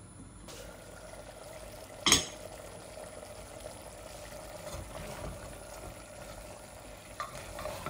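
Sheep trotter curry being stirred and sautéed in a pot, a faint steady sizzle with one sharp clank of the spoon and a few soft scrapes, quiet and close.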